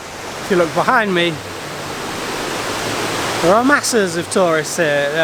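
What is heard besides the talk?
Janets Foss waterfall in North Yorkshire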